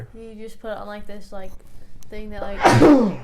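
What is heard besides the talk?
sneeze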